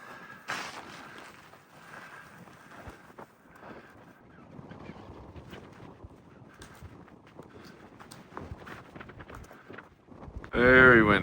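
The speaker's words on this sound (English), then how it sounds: "Very windy." Gusty wind buffets the microphone outdoors on the Appalachian Trail near Wayah Bald in uneven rushes, with faint voices underneath and a loud close blast at the very end.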